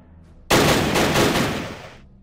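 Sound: gunfire in video game Battle Academy

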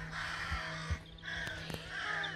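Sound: crows cawing near a roof

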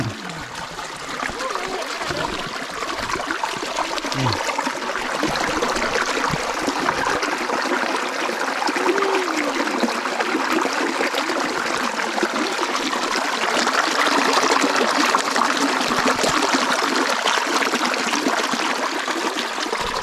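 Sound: small waterfall in a forest stream

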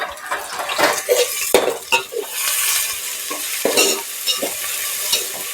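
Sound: mixed vegetables and tomato being roasted and stirred in a pan

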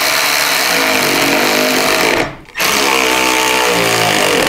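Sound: power tool snugging down nylock nut on air suspension

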